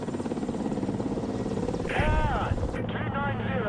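A Ka-52 attack helicopter in War Thunder, its rotor thumping in a steady, rapid pulse throughout, with someone talking over it near the end.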